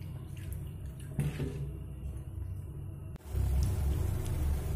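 Water poured from a bowl into sugar in a pan for a light syrup for palm-fruit malpua, a low steady splashing and trickling that swells louder and fuller about two-thirds of the way through.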